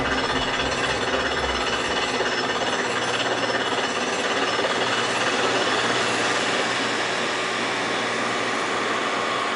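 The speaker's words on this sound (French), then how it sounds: "Creusement avec le brise-roche hydraulique" A hydraulic rock breaker pounds rock while digging the Viollet tunnel, a dense, continuous, loud hammering roar with steady machine rumble throughout.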